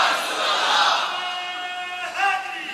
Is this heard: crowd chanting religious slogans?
yes